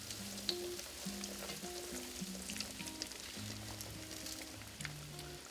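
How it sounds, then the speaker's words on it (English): Oil sizzling and crackling steadily as breaded steak fries, with a faint low musical tone underneath. "So I'm gonna finish frying these other ones"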